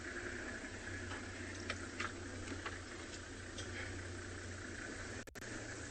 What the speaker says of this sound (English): I think I'm just going to turn the engine off now and just listen for a bit.